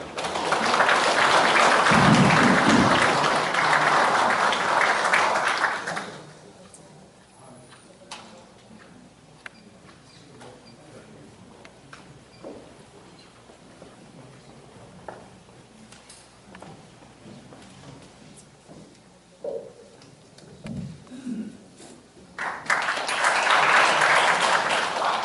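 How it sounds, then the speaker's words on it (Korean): Applause from a seminar audience at Gumi City Hall greets a geography professor from Kyungpook National University: loud clapping for about six seconds, a long quiet stretch with faint room noise and a few knocks, then another strong burst of clapping at the end. "교수님을 뜨거운 박수로 맞이해 주시기 바랍니다."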